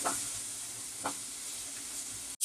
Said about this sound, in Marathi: कांदा व्यवस्थित एकदम परतून घ्यायचा आहे, नरम होईपर्यंत चांगला।